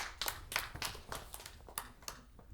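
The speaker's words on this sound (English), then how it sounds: "let's clap hands for everyone" Scattered hand clapping from a small group at an agriculture quiz session, irregular and fairly close, tapering off over a couple of seconds.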